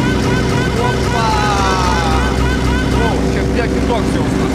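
A Yak-52 aerobatic airplane's engine drones loud and steady throughout, a continuous close cockpit roar during flight. A voice talks over the engine noise.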